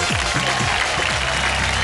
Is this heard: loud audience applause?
yes